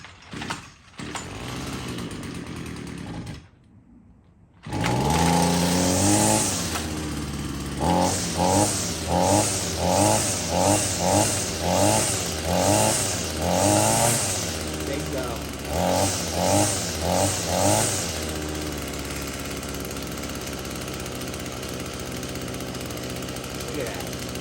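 An Echo SRM-225 string trimmer with a newly installed all-in-one kit, switch on and choke set, is pulled and starts after a few seconds. The two-stroke engine buzzes loudly nearby, rising and falling through a series of revs before settling to a steady run.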